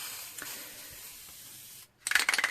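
Aerosol spray paint can hissing in short, loud bursts near the end after a steady quiet background, with a brief rattling pulse pattern.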